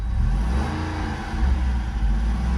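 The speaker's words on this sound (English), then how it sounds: "So if I start up the Jeep, it's in its quiet mode right now, and if I rev it" A Jeep Wrangler Rubicon 392 V8 in quiet exhaust mode revs up, giving a muffled, steady low rumble that swells slightly without any sharp bark.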